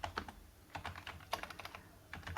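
Keys clack on a computer keyboard in quick, uneven bursts while a login email is typed, faint and close with short pauses between clusters of strokes.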